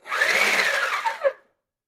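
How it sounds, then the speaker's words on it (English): A food processor whirs loudly for over a second while chopping ingredients for maamool, then spins down and stops, with no talk. "Just have them run through the chopping process until they are to my liking"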